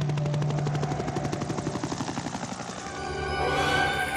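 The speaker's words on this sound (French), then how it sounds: "La seule solution était donc de les évacuer par les airs, en hélicoptère." A helicopter's rotor chops in a fast, steady rhythm, loud and close, with turbine whine rising toward the end.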